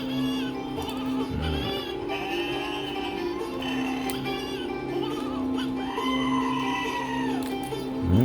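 A person imitating sheep, drawn-out nasal bleats repeated over a steady hum during a lockpicking session, the voice wavering up and down near the microphone.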